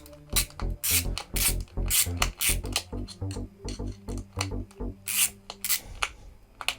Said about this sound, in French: on va voir ce que ça donne justement ce fameux cliquet